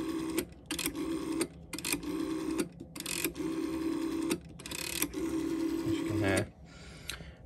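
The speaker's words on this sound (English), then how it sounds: "The dial's got a nice smooth sound to it" A red 1965 GPO 706 rotary telephone with a metal finger stop and plastic finger wheel has its dial turned and released several times, each spin giving a smooth whirring return in a repeating rhythm.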